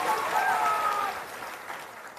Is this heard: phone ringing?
no